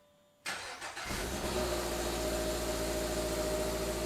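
Toyota GR86 fitted with a JDL unequal-length header and stock cat-back exhaust starts up with a loud burst, then settles into a steady, throbbing idle close by.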